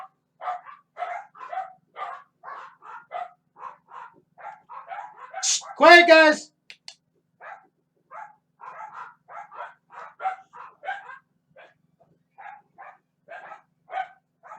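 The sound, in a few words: dogs barking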